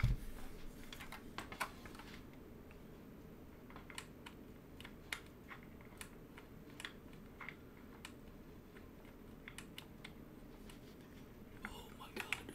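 Sparse keystrokes on a Keycult No. 1 grey and purple mechanical keyboard, quiet isolated clicks spaced irregularly across a faint, hushed room.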